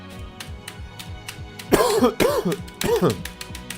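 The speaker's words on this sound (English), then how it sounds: "Then it's okay when I cough, because then I can cough with swag." A person coughs and clears their throat several times in a burst of harsh, close, loud coughs following a stretch of quieter background noise.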